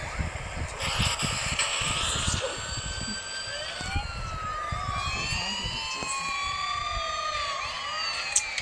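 Police car sirens wail during a video game chase, several overlapping rising and falling tones sweeping continuously over a steady bed of game engine and road noise.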